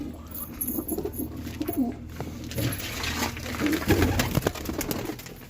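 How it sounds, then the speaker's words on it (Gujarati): Pigeons coo from a loft kept for long-flight racing birds, soft low murmuring calls repeating steadily and close by, with faint background rustle throughout. "બાકી આ બધી બીજા કબૂતર જુઓ"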